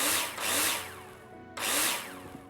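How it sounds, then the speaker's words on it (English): A power drill in the Builder Simulator video game drives screws into plasterboard wall panels: two whirring bursts, each rising and falling, separated by a short pause, close and clear. "Take your drill out and screw them"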